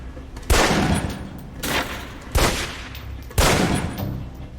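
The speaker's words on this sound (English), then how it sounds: "Equip the pistol, then aim down range and take some shots at the target." Four sharp pistol shots at a target in the video game Alpha Protocol, fired at an even, unhurried pace, each crack loud and close with a short trailing echo.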